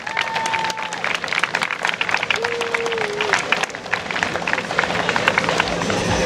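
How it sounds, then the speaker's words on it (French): An outdoor lakeside crowd at a junior wakesurf contest in Talloires claps and cheers steadily throughout, with an announcer talking over the applause. "on applaudit les filles bien fort, les juniors"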